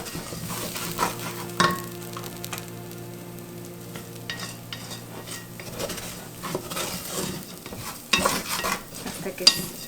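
White rice frying in oil is stirred in a pot, a steady close sizzle with repeated scraping and clinks of the utensil against the pan, the scrapes coming in uneven bursts throughout.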